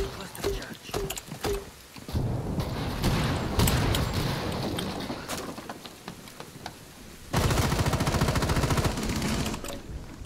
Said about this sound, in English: Detonation cluster charge.